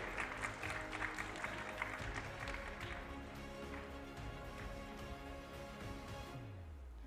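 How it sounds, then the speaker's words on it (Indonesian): Hands clap in a dense burst of audience applause at an Indonesian economic conference, loud at first, then tapering off, with a low rumbling tone sliding at the end. "Kita beri tepuk tangan yang paling meriah sekali lagi."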